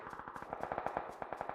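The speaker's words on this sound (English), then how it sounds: "we got gunshots going to that guard" Rapid bursts of automatic gunfire from the battle royale game PUBG during an esports match, a quick rhythmic string of sharp shots at a steady close distance, with no talk over them.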